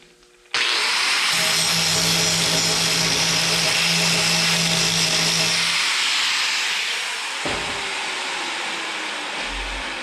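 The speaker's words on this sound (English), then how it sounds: "See if I can get in here with the grinding wheel." An angle grinder with a grinding wheel cutting into a steel truck frame on a C-cab build, a loud continuous high whine and hiss that starts abruptly, holds steady, then eases off.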